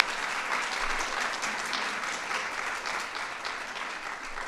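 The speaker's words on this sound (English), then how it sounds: "So let's give our parents, grandparents a round of applause." An audience at a White House Kids' State Dinner claps steadily for parents and grandparents, a dense, even round of applause filling the room throughout with no talking over it.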